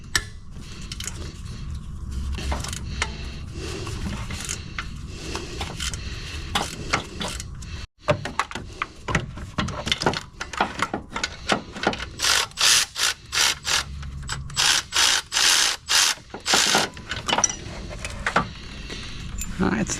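Wrench or ratchet work on the lower 15 mm alternator bolt of a Ford Explorer, giving rapid clicking and metallic ratcheting bursts that grow denser in the second half, with engine-bay clatter and speech mixed in.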